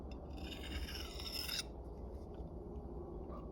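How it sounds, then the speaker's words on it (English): A diamond rod sharpener rasps against a tool's edge in a steady, close scraping stroke that stops partway through, leaving a quieter room. "You can sharpen your tool,"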